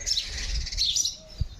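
Sparrows chirp busily near their nests, a quick high twittering chorus that runs through most of the moment under a low rumble of background noise.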